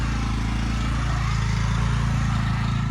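Pressure washer engine running steadily nearby, a continuous low droning rumble with a dense hiss above it, unbroken and with no talking.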